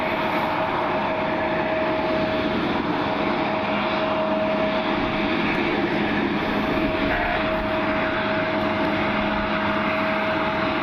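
A jet airliner taxiing to its gate at Cleveland Hopkins airport on a rainy, breezy day gives a steady, continuous engine rumble with a constant whine, mid-distance and unbroken throughout.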